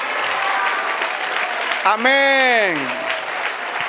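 A church congregation applauds in steady, dense clapping that fills the room, and then a voice breaks in with a drawn-out spoken exclamation over the continuing applause.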